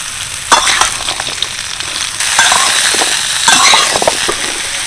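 Mango pieces coated in turmeric sizzle and hiss in a full wok of hot oil while being stirred, with scraping bursts at intervals over a steady, close frying crackle.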